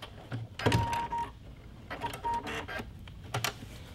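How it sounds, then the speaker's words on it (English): A sewing machine makes a couple of short tacking bursts through a hanger loop on a quilted holiday stocking, quick whirring runs with light mechanical clicks in between, close and fairly quiet with no talking. "I'm just going to tack it in place with a couple stitches"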